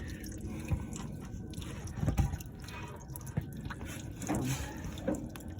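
Liquid dripping from a small leak under a Ford Sunliner car, faint irregular drips and soft splats scattered over a quiet background, close by with no talking.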